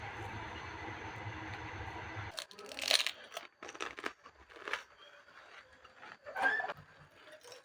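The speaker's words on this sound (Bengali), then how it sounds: "আমি তো ফুচকা খাচ্ছি" Crunchy fuchka (pani puri) with tamarind water is eaten up close in the evening; after a steady background rumble cuts off, several sharp crunching bites and crinkling chews follow in irregular bursts.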